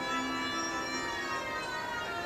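Police siren in the L.A. Noire video game, a continuous wailing tone that holds steady and loud for a couple of seconds with no speech.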